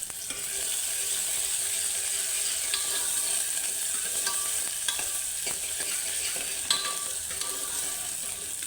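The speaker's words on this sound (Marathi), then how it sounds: "कांदा परतवून घ्यायचा चांगला" Onion sautéing with garlic in a pan for rajma gives a soft, steady sizzle, with occasional clicks and scrapes of a spatula stirring against the metal; no one speaks.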